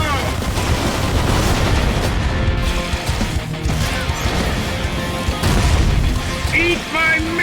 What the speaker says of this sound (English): Eat my missile!